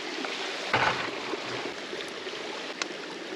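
A creek in a national forest in New Mexico runs steadily with a soft, continuous rushing trickle close by, broken by a brief clunk and a faint tap, with no talking.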